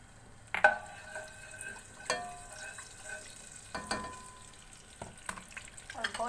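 Ginger garlic paste, cloves and black cumin sizzle in hot ghee for a beef pulao, a steady close frying hiss broken by several sharp stirring clatters, with no talking.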